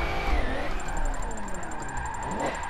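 An Alpha car drifting in Forza 7 from the first-person view, a steady engine drone with squealing tires and shifting revs, moderately loud and continuous, with no talking.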